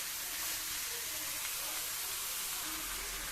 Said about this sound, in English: You keep on frying it.